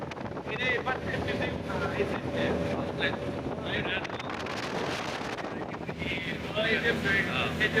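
Speedboat crossing the Padma river from Mawa-side Moinot ghat, a rushing engine roar mixed with heavy wind buffeting on the microphone, with voices talking intermittently over the noise.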